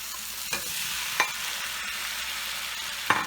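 Vegetables stir fried in a hot pan with tomato added partway, a steady close sizzle and crackle broken by a few sharp scraping stirs of the spatula, no voices.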